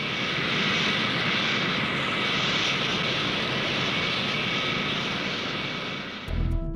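Concorde supersonic airliner on a test flight with nose drooped and undercarriage down, climbing to about 10,000 feet, giving a loud, steady engine roar throughout that cuts off abruptly near the end.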